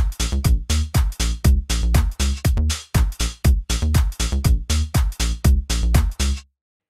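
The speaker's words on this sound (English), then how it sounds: "So what we have here now is a simple beat in the bass line" A simple electronic beat with a bass line programmed in Ableton Live: punchy kick-and-bass hits in a steady, repeating rhythm, loud and dry, stopping abruptly near the end.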